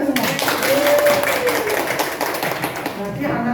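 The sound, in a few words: classroom clapping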